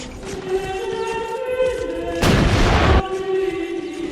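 British artillery fire from the 1916 First World War front: a single heavy blast and rumble lasting under a second, rising sharply out of a sustained low, droning musical background.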